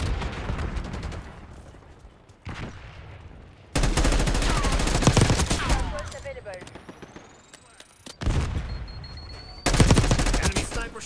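Bursts of rapid automatic gunfire and single shots in a Call of Duty multiplayer match, loud close volleys starting and stopping in several clusters, with sharp cracks, ringing tails and brief quieter gaps between.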